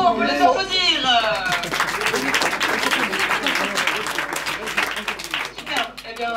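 Audience applause at an improv festival show in Paris, starting right after a voice trails off and continuing as a dense, steady patter of many hands, with some talk mixed in.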